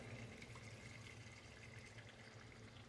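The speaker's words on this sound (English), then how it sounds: "Put a little bit more water in there." Water runs into a cooking pot while curry chicken is being prepared, a faint, steady pouring and trickling sound with a low background hum and no voices.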